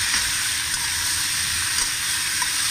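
Tomatoes hit a hot pan of Ilocano pinakbet, setting off a steady, loud sizzle and frying hiss that holds evenly for about three seconds with no voices.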